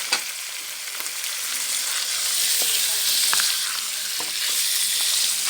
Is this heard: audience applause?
no